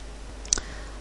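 A single sharp mouse click sounds once near the middle, short and distinct over a faint steady background hum, while a document is being edited in Microsoft Word.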